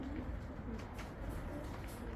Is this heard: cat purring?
no